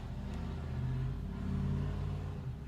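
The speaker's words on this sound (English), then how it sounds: "loud truck goes by" A loud truck rumbles past nearby outdoors, a steady low engine drone that swells slightly and holds without any talking.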